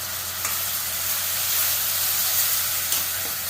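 A ground mint and pepper paste hitting a pan of fried onions and green chilli for mint rice, giving a dense, loud, continuous hissing sizzle with faint utensil touches, close up.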